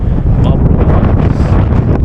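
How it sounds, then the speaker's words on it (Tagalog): Strong wind gusts straight into the microphone outdoors while travelling, a loud rough rumble that fills the whole moment without a break. "kumampas na naman po yung hangin mga tolits"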